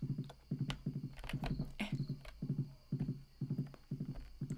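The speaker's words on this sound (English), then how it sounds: "Now that we got our horsey," Horse footsteps in the Stardew Valley video game, a quick, regular clip-clop of hooves repeating steadily throughout, fairly quiet and alone.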